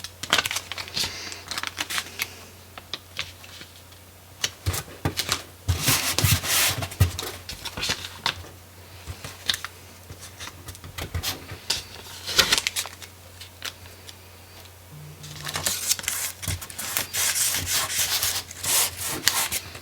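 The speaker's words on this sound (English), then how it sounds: "now I just need to put them on some transfer tape" Transfer tape is being applied to Cricut-cut vinyl labels, heard as close, intermittent rubbing and scraping strokes that come in bursts of burnishing with quieter pauses in between.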